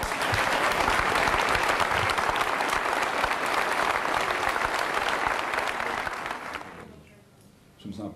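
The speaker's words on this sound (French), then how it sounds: "je demanderai un grand applaudissement pour Roland du Châtelet" A crowd applauds loudly and steadily for several seconds, then the clapping fades out.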